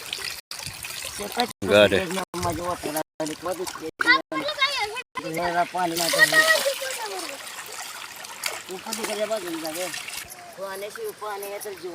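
Water splashes and trickles close by during a bath with soap and a brush. A child and an adult talk almost continuously over the wet sounds.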